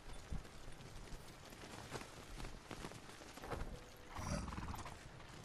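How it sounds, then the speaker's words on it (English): Horses in the open-world game Ghost of Tsushima, with clip-clopping hooves and a neigh over a faint rainy ambience, moderately quiet and with no talk. "Oh my god, there's horses."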